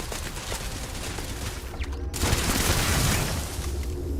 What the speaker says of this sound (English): There's that bloody turret.